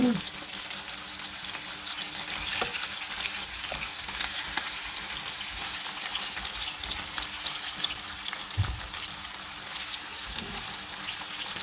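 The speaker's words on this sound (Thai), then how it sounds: "ทอดไฟกลางนะคะ" Sun-dried beef hump sizzles in oil over medium heat, a steady bright crackling hiss with occasional pops and stirring clinks, someone speaking softly now and then over it.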